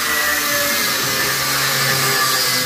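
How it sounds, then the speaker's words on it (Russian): A loud, steady, broadband whine of an angle grinder cutting metal fills the whole stretch close up, dense and continuous with no pauses. "Он раб болгарки."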